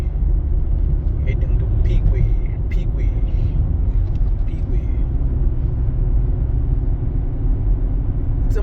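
A car driving along the B5 road toward Pigwe in the morning, giving a steady, loud low engine and road rumble throughout, with faint higher clicks and rattles over the top.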